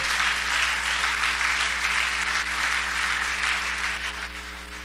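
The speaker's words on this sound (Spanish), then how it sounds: "Aplauda duro si va a aplaudirle al Señor." A church congregation applauds loudly and steadily through the whole stretch, a dense wash of clapping at a sermon, with a steady low hum running underneath.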